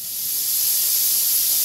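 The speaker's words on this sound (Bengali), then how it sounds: "প্রেশার কুকারে কচুরমুখী সিদ্ধ করতে বসিয়েছি, একেবারে গুঁড়ি গুঁড়ি কচুরমুখী। সেই জন্য একটা সিটি দিয়েছি।" Steam hisses steadily from a pressure cooker whistle while small taro corms boil inside, a close, continuous and fairly loud rushing hiss with no talking.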